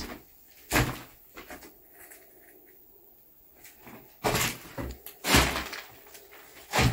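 An old wooden drawer or cupboard in a long-abandoned ruined house is pulled and pushed, giving several scraping and knocking thuds at irregular intervals, close by, with quiet rustling between them and no talk.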